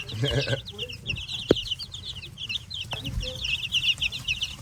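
Baby Buff Minorca chicks cluck and peep continuously at close range while being fed, with a couple of soft knocks and faint talk underneath.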